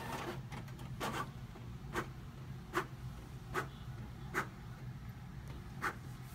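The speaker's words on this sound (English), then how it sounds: "My printer prints super slow for pictures," An inkjet printer slowly prints pictures, giving a steady low hum with soft repeated clicks and ticks roughly every second, faint and alone.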